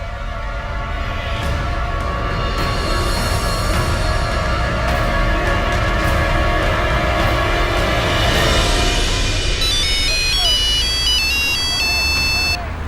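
A bright electronic phone ringtone plays a short stepped melody near the end during a call in an Indian crime drama, rising over a dense bed of background music and voices.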